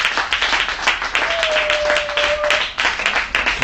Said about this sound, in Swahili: Pigia Bwana makofi makubwa.